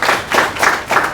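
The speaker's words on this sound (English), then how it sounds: "One more round of applause for Ronnie." Four slow, evenly spaced claps ring out close by at a technology talk on AR and VR, brief and distinct rather than a full round of applause.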